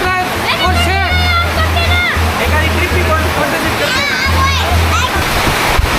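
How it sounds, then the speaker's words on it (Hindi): Heavy monsoon rain in the Aravalli hills, a dense, constant roar of downpour and splashing water, loud and close, with people talking and shouting over it throughout. "इतनी बारिश दिल्ली में भी नहीं हो रही है जितनी यहाँ हो रही है इस वक्त अरावली हिल्स पर"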